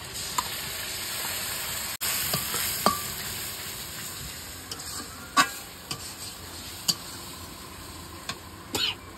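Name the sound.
stirring fried rice with spices in pan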